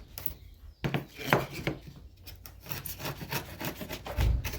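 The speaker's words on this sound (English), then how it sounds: "So we're just going to clean up these edges with a chisel a little bit." Chisel paring and cleaning up the edges of wooden cabinet door parts, with irregular close scraping and rubbing strokes, short bursts separated by brief pauses and a soft knock near the end.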